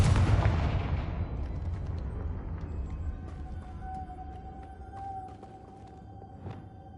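A Confringo fire spell in Hogwarts Legacy bursts with a loud booming blast at the start, then a long rumbling decay under faint magical tones and small impacts.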